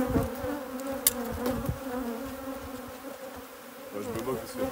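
Honeybees from a colony swarm buzz steadily around beehives at a French royal jelly apiary, a dense continuous drone of many wings with individual bees passing close, heard alone without talk.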